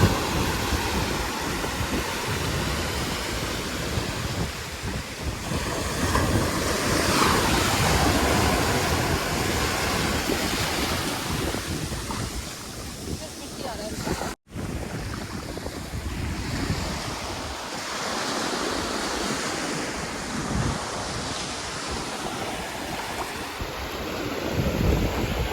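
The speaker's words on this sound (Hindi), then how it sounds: "लंकावी बीच पे पहुंच गए।" Ocean surf rolls steadily onto Cenang Beach in Langkawi, Malaysia, a dense continuous wash of breaking waves with wind buffeting the microphone, broken only by a brief dropout midway.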